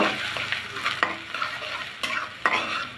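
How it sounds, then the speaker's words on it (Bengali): Onions sizzling and frying in hot oil, with a spoon scraping and stirring the pan every second or so, close up and steady. "আর দিব পেঁয়াজ কুচি একটু ভেজে নিব"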